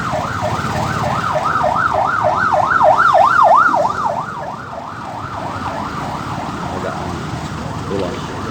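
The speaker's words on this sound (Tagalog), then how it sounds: "Ambulansya." A loud, close ambulance siren wails in a rapid rising-and-falling yelp, swelling and then fading as it passes along the road amid traffic noise during a road trip.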